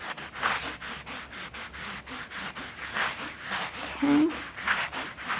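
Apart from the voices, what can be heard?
wiping a surface clean with a bleach wipe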